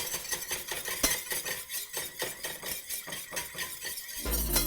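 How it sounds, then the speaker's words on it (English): Steady, vigorous whisking of eggs and an egg yolk in a saucepan over medium heat, a fast continuous rhythmic clatter of whisk on metal, close and alone, with a brief change in sound at the end. "Medium heat, vigorously whisk together the eggs. Keep it whisking till they're pale and thick."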